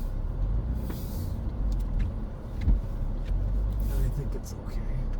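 A truck rolls slowly onto swampy, mushy ground with a steady low engine rumble and faint creaks, while people talk nearby.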